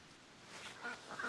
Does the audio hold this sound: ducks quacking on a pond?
yes